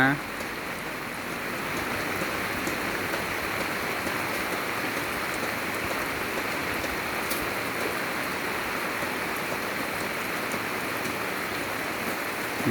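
Steady rain pouring down outdoors on a cool evening, a dense continuous hiss holding even and fairly loud for the whole stretch with no pauses.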